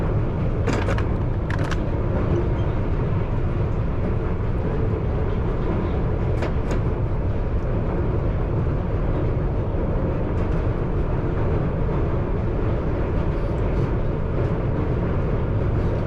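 A London Underground Piccadilly Line train runs near King's Cross, with a loud, constant rumbling roar heard from inside and a few sharp brief clicks or squeals over the steady drone.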